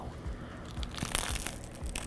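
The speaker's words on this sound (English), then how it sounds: "Can you hear the crunch?" Close crunching and crackling as a crunchy egg-in-a-hole BLT sandwich is bitten and chewed, several crushing crunches in quick succession, with no voices.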